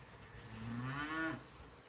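A single cow named Ghostface gives one drawn-out moo, rising slightly in pitch before breaking off, heard alone at moderate distance.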